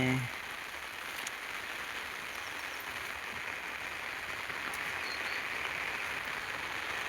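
Soft, steady rain patters in a constant wash of hiss, fairly faint and even, with no one speaking.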